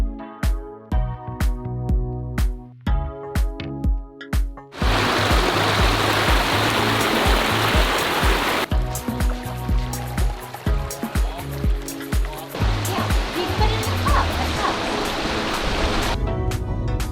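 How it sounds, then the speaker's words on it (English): A koi pond water feature splashes in a loud, continuous broadband rush of falling water that begins abruptly after several seconds of rhythmic musical thumps and persists steadily to the end. "Let's go check this water feature out."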